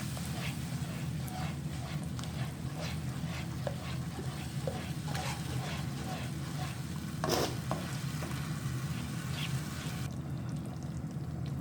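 Chili garlic sauce and ketchup being stirred into shashlik gravy in a cooking pan, a steady wet scraping and sizzling that keeps going throughout, with a sharper clink near the end.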